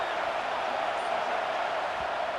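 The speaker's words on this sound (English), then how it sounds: "It's early, but this crowd is fired up. Listen to this noise here." Stadium crowd in a college football video game, Florida State against LSU: a steady, dense roar of noise that holds level throughout, loud and continuous with no distinct voices.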